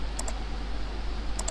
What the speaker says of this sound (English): Control Enter on the keyboard